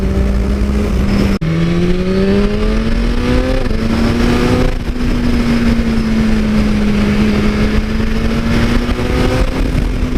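A BMW S1000RR sport bike pulls a power wheelie, its engine roaring loud and close, revving up through gears with a sharp shift blip early on and a sustained high-pitched howl.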